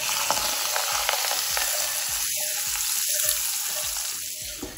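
A hot tempering seasoning sizzles loudly as it goes into salted curd rice. Steady frying hiss runs throughout, with rhythmic stirring scrapes and a few brief bubbling gurgles, and no one speaks.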